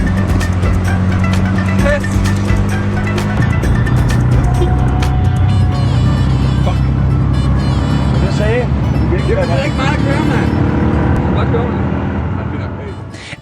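Three-wheeled tuk-tuks race along a Sri Lankan road with buses and trucks around, their small engines droning and revving loudly and continuously while traffic rushes past, a voice talking over the din.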